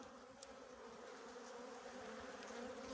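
Many honeybees buzz around a hive in a dense, steady drone close by, with a few louder individual buzzes passing through.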